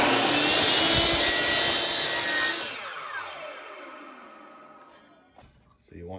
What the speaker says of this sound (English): what I'm gonna do is cut this at a 45, like so